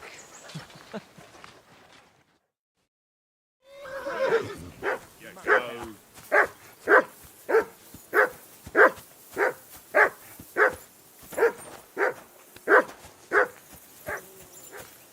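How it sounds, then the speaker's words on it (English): A dog barks repeatedly in the medieval video game Kingdom Come: Deliverance II, about a dozen loud, evenly spaced barks after a short pause, following brief character dialogue. "I assume you can hear that damn dog of yours barking."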